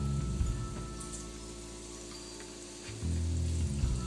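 Sweet potato pieces frying in coconut oil in a pan, a steady soft sizzle and crackle throughout, with a low stove or kitchen hum that steps louder near the end.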